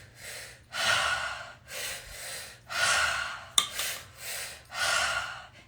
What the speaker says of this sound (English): And we breathe in through the mouth.